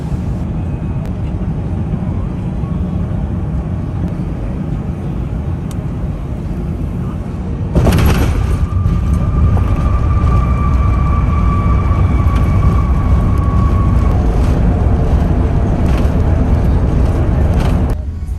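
Cabin noise aboard a Singapore Airlines A380 landing at night: a loud, steady low roar that jumps into a heavier rumble partway through as the wheels meet the runway, with a faint tone sliding across it.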